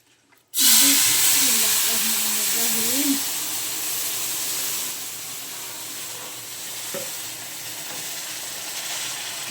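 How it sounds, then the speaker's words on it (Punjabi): A loud, steady hiss of steam rises from a hot pan as water is added, starting abruptly and continuing evenly throughout, softening slightly partway through. "ਭਾਫਾਂ ਨਿਕਲਦੀਆਂ ਪਈਆਂ"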